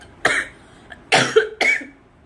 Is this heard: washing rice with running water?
no